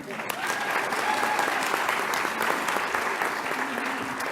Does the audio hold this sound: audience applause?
yes